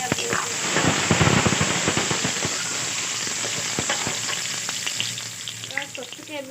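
A medium onion hitting half a cup of hot oil in a kadai sets off a loud, dense crackling sizzle that settles into a steady hiss, heard up close.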